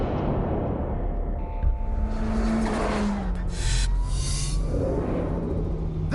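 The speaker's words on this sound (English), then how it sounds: "This turbo makes the most gorgeous noise." Modern turbocharged car engine, a dense roaring rumble throughout with a rising whine and hiss as it revs, tires faintly squealing as it drives past close by.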